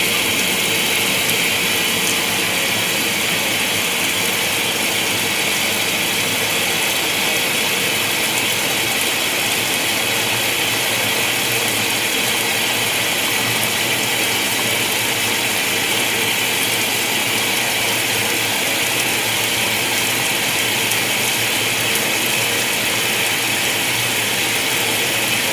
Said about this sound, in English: there goes the fabric softener being dispensed